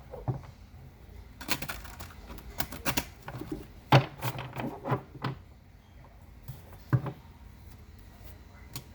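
Tarot cards being shuffled by hand: quiet, irregular bursts of papery clicking and riffling, with a few sharper snaps, close up and without talk.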